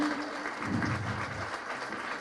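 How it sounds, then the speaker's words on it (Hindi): An audience at a Holi comic poetry gathering at Marwari Bhawan claps in a dense, continuous wash of applause that lasts the whole short moment. "एक बार जोरदार तालियों से मुझे आदेशित करें।"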